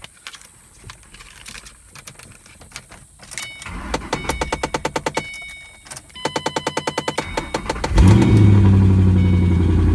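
Rapid clicking of a starter cranking, then a 2014 Chevy Cruze engine with 100,000 miles catches and settles into a steady, close rumbling idle.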